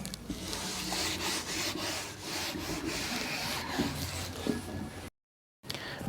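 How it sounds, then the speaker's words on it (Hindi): Writing is being erased from a board by rubbing, with a continuous close scrubbing and swishing that runs steadily, then cuts off briefly near the end. "अब मैं इसको मिटा रहा हूं, ठीक है, रब कर रहा हूं"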